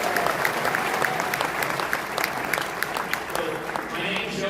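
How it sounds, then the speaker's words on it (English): A conference crowd at CPAC in Dallas, Texas, applauds the staff and board with sustained, dense clapping, fairly loud and even throughout, with a few scattered voices mixed in. "Give a hand to the Cpac staff and to the board"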